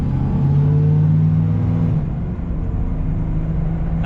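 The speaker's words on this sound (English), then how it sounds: "Let's see if she'll do a burnout." Chevy S10 Xtreme V6 pickup truck holds a loud, steady low engine roar during a burnout, with a brief dip around the middle before the drone resumes close by.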